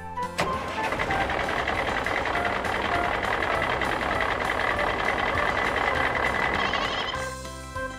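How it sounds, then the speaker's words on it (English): A trailer truck on a city street, a continuous loud engine rumble with repeating reversing beeps over it, the sound cutting off abruptly near the end. "Trailer truck."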